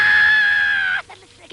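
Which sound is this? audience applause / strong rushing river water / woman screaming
woman screaming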